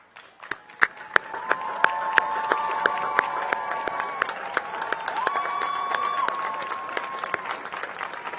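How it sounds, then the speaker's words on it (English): Graduation ceremony audience applauding at a university commencement, steady clapping building quickly and holding under a sustained tonal hum, with a few sharp individual claps standing out near the front. "join me in applauding your academic success"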